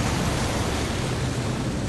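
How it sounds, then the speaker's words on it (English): The bow wave of MGB 81, a speeding WWII motor gunboat, crashes as a steady broadband rush of spray and water noise, loud and continuous with no speech. "you can see it bow wave just crashing over there"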